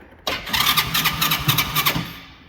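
A 125cc motorcycle engine cranks with the choke on, a sudden start of rapid repeated turning-over pulses that sputter steadily and loudly for about two seconds before fading, with no voices.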